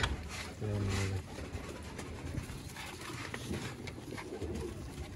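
Pigeons cooing nearby in soft, low, repeated coos, partly mixed with background noise.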